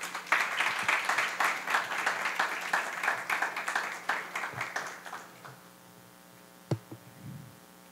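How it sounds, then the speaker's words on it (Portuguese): Seminar audience on urban electric mobility in São Paulo claps for the moderator as he is introduced, brisk clapping that thins and fades out after about five seconds, leaving a low hum and a few stray knocks. "Uma salva de palmas para ele, por favor."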